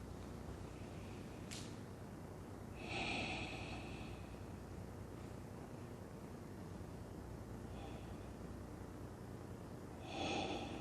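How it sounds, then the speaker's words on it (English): Slow, deep breaths during a gentle yin yoga flow, with two long airy exhales standing out at about three and ten seconds over a quiet, hissy room, and softer breaths in between. "Take a few nice and deep breaths here."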